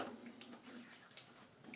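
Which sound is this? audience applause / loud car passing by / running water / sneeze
running water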